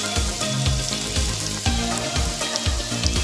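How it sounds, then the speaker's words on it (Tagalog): Garlic sautéing in hot oil in a pan for Bicol Express, a loud, dense, continuous sizzle and crackle up close with faint utensil knocks, no talking. "unahin muna natin igisa ang bawang"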